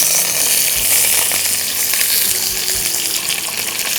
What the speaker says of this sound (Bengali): তেলটা কিন্তু গরম হয়ে গেছে, শিমটা আমি এর মধ্যে তাহলে দিয়ে দিই।